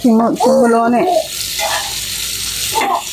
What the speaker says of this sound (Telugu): మనం చేపను ఇలాగే ఫ్రై చేసుకుంటూ ఉండాలి